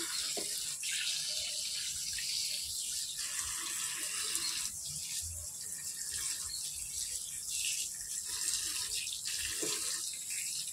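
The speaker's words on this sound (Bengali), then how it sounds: "এটার মধ্যে অনেক বালি লেগে থাকে, তো এই জন্য এটা অনেক ভালো করে ধুইতে হবে।" Chopped leafy greens carrying sand are washed under running tap water in a home kitchen, a steady splashing stream with uneven gurgles and flow changes throughout, close and fairly loud.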